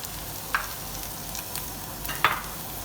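Pre-cooked chicken strips with seasoning sizzling steadily in a pan, a continuous frying hiss broken by a couple of light scrapes or taps, close and clear without talk.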